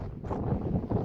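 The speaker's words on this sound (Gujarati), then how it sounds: "પવન એકદમ ઠંડો ઠંડો આવે છે" Cold wind blows outdoors on a farm plot, buffeting the microphone in a dense, low rumble with gusty swells through a short stretch.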